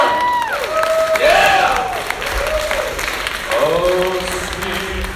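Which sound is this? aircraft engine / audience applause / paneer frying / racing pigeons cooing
audience applause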